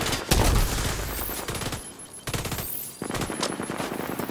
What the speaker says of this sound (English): we still have freaking people shooting at us